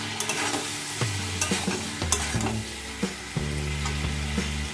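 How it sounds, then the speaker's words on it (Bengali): Shrimp frying in a pan alongside vegetables, with repeated stirring scrapes and knocks over a steady close sizzle, no talking. "এপাশে আমি দেখো চিংড়ি মাছটাও দিয়ে দিয়েছি।"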